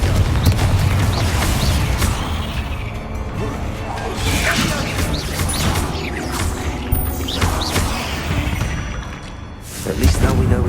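Bombarda and Confringo spells blasting in Hogwarts Legacy inside an insect-filled tomb, loud crashing explosions with whooshes and clattering debris, under continuous game sound and voices.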